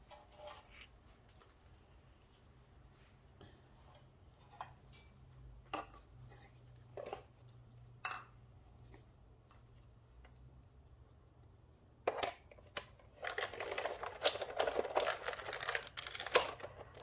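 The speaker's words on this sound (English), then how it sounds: "I'm just going to cut it using the Sizzix machine." A Sizzix die-cutting machine presses a metal die through, giving scattered clicks and ticks, then a louder stretch of grinding, crackling cranking near the end, with no talk.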